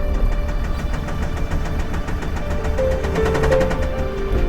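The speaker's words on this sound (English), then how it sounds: "So I'm gonna rev the car just a little bit," A rebuilt Range Rover L405 3.0 TDV6 diesel engine runs and revs slightly, with a rapid rhythmic ticking and knocking pulsing over a steady low mechanical rumble, close and loud.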